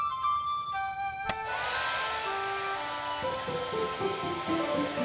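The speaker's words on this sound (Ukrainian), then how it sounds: "Вмикаємо фен." A hair dryer whirs steadily at close range after a sharp click, its tone shifting slightly as it runs continuously without speech.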